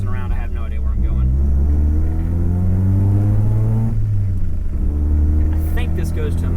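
A car on coilover suspension cruising along a road, a loud, steady engine drone and road rumble with the pitch slowly rising and falling as it changes speed, and someone talking over it.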